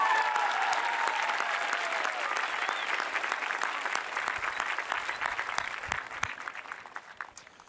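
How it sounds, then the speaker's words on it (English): A graduation crowd gives a large round of applause, dense and loud, sustained throughout and tapering slightly near the end, with brief cheers and faint voices mixed in. "A large round of applause to our team and the Franklin Police Department."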